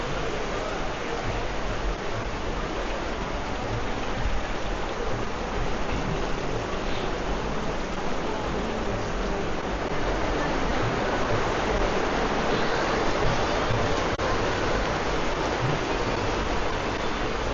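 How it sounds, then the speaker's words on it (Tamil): Heavy rain pours steadily on a Singapore street, a dense continuous hiss with no break, loud and close throughout. "ஸோ நல்ல மழை, சரியான ரெயின்"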